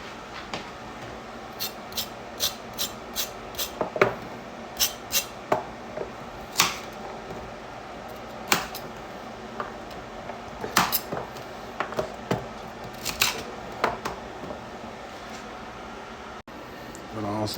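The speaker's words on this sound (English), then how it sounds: "I'm gonna cut up some carrots." Carrots cut with a knife on a board, a quick series of crisp chopping taps followed by sparser cuts and clinks, close by, with a person speaking in between.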